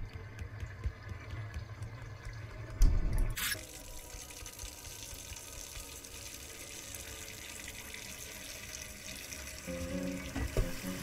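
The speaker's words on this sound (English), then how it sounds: "you will go back to the faucet" A tap runs continuously in Untitled Goose Game, a steady close hiss of falling water that briefly spikes in intensity before settling into an even flow until the end.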